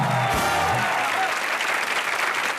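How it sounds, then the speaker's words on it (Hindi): Studio audience applause on the Comedy Nights With Kapil set, a loud steady wash of clapping from start to finish after a brief spoken line at the opening. "जोरदार तालियां।"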